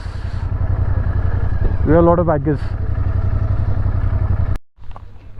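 Several motorcycle engines idle and rumble loudly at the Kargil War Memorial car park as bikers pull in, with a brief rising engine rev midway and the sound cutting out abruptly near the end; voices mix in.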